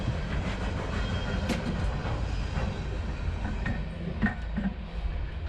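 A train rumbles past close by, steady heavy roar with faint rattling and clacking of wheels on the rails.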